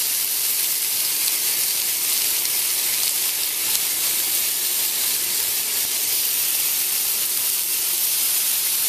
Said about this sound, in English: stick your bacon onto the pan and you'll hear it sizzle